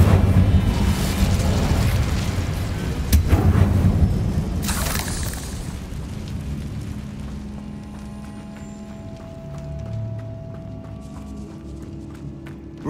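A spell-casting fire blast erupts as a loud booming burst with rumbling low roar, followed by crackling and fading whooshes over several seconds in a tall room.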